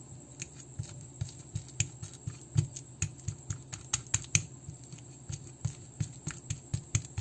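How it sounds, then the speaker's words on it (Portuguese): A fork mashes a peeled ripe banana, making a quick series of sharp clicks and squishes in a steady rhythm, close and clear, with no talking. "A gente vai amassando com um garfo, que bem rapidinho já fica tudo bem amassadinho"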